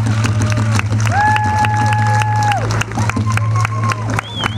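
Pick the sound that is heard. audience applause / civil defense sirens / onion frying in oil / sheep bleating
audience applause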